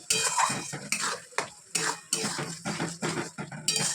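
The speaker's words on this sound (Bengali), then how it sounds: "মশলাটা এখন কষিয়ে নিচ্ছি" A spoon scrapes and clanks repeatedly against a pot as spice paste is stirred and fried on a home stove, a close, rhythmic series of metallic strokes about every half second over a faint sizzle.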